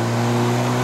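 A 2015 Honda City GM6 with a 1.5 engine and five-speed manual gearbox holds a steady, droning rev under pressed throttle, a continuous loud hum with no break.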